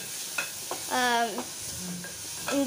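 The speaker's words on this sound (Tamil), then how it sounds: "தக்காளி வெங்காயம்லாம் ஃப்ரை பண்ணுறாங்க" Tomatoes and onions fry and sizzle in a pan as the base for a snail gravy, with stirring scrapes heard under a person's speech close by.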